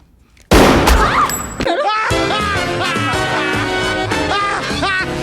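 A sudden, loud burst of gunfire erupts in a scene from the film Scream 2, a short dense volley lasting about a second, followed by dramatic music and voices speaking.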